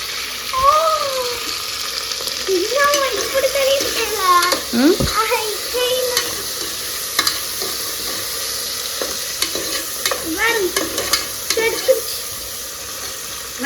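Mutton curry is stirred in a sizzling pan, with repeated close scraping strokes and frying hiss, and voices talking faintly over the start.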